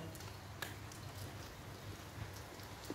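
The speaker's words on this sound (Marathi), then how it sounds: "मागील 2-3 दिवसापासून पाऊस सुरू आहे" Steady, faint rain falls during a days-long monsoon drizzle, a soft continuous patter with a few slightly sharper drops landing nearby, without voices.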